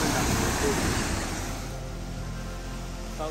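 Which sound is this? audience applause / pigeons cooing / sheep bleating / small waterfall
small waterfall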